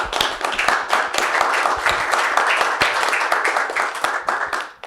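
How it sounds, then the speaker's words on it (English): An online webinar audience gives dense, sustained hand clapping that holds steady for several seconds before quickly tapering off. "An applause, right?"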